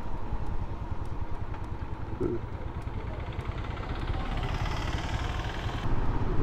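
A Royal Enfield Himalayan motorcycle rolls along near the Indo-Bhutan border in Assam, its low thumping engine steady and moderately close over rough background noise, with faint clatter.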